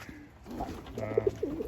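Birmingham roller pigeons coo in soft, low repeated notes, fairly close, over steady background noise with no talking.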